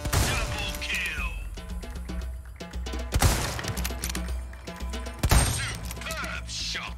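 Gunshots in the Resident Evil 4 Remake shooting gallery: a few sharp, loud reports with impacts and clattering game effects over background music.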